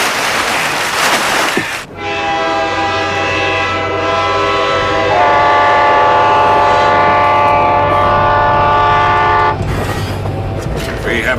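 A train sounds its loud, sustained multi-tone horn up close, blaring steadily for several seconds over a rumbling background before fading, with no one speaking.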